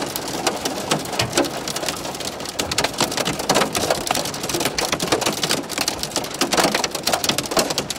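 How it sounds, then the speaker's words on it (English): Heavy rain pours down outdoors at night, a dense continuous patter of drops drumming on surfaces, loud and steady throughout with no voices. "I knew it was supposed to rain a little bit tonight, but I didn't expect this."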